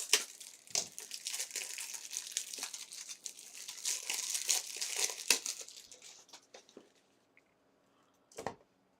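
Plastic crinkles and crunches as top loader packs are cut open at a basketball card break, close and busy for several seconds, then fading to near silence before one last brief rustle.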